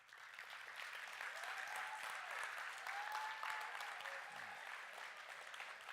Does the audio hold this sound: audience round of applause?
yes